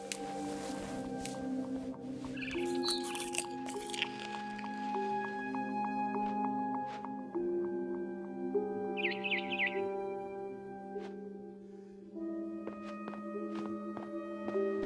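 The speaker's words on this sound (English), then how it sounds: "Then I heard chirping outside my window. It was a barn swallow going back to her nest." A brief cluster of high, quick chirps from a barn swallow returning to her nest outside a window in the video game What Remains of Edith Finch, heard faintly over a steady bed of sustained musical tones.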